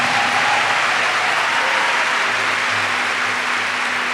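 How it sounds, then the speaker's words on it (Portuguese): A church congregation applauds during a Maronite cathedral Mass, giving a dense, steady wash of clapping that carries on without a break through the whole stretch. "Você quer aplaudir? Aplaude direito então."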